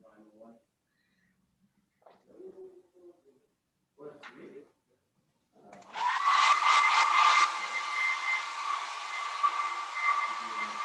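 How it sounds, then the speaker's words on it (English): A hair dryer switches on partway through and blows with a steady, loud whine, following brief quiet murmurs of speech and small handling noises. "I think I hear the Hair dryer, probably."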